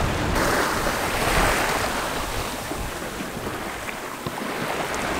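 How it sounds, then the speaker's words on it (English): Wind roars steadily over rolling ocean waves aboard a sailing boat crossing the Pacific, a constant broadband rush with surf wash and gusts buffeting the microphone, no voices. "We have found wind!"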